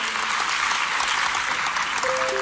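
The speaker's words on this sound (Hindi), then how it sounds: "तालियों से शुभकामनाएं और बधाइयां दें।" Dense, steady applause from the audience at an honour ceremony for selected UPSC candidates, continuous and fairly loud throughout.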